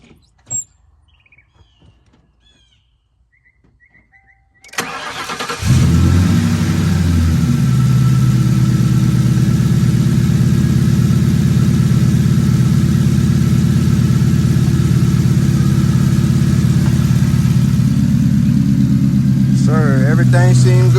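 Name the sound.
car engine starting and idling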